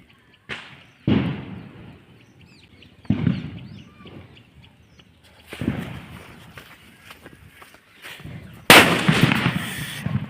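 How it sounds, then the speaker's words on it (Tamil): Diwali firecrackers and large atom bomb crackers going off outdoors during a family celebration, a string of loud, sharp blasts a few seconds apart, each trailing off in a rumbling echo, ending in a very loud burst. "இடி போட்டாச்சு அணுகுண்டும் பட்டாசும் போட்டாச்சு"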